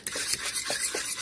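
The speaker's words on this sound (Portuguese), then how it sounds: "Vocês vão misturar os ovos assim" A fork rapidly whisks eggs in a bowl for a flourless banana oat cake, giving continuous scraping, rubbing strokes with light metallic clicks against the dish, close and without talk.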